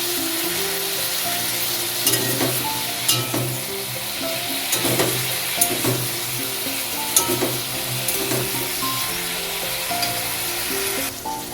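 Ridge gourd fries with salt and turmeric in a pan for a mustard curry, a continuous hiss and sizzle punctuated by irregular scraping strokes as it is stirred.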